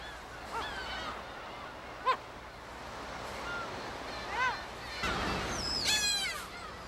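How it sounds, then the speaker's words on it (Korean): Gulls call intermittently at a distance over a wash of surf and wind on a Yellow Sea island, with a few sharper cries standing out. "갈매기들의 울음소리와 날갯짓이 섬의 생명력을 더한다."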